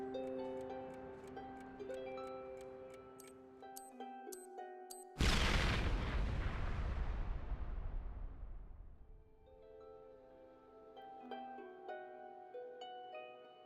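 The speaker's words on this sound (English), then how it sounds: "The huge bomb blows a crater several meters deep." A huge bomb explosion erupts abruptly as a loud, deep boom cutting off soft tonal music, then decays over several seconds into rumbling before the music returns.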